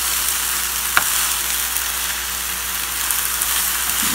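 Pasta with shrimp and pork stir-fries in a pan with a steady, loud, close sizzle and one light tap early on. No voices are heard.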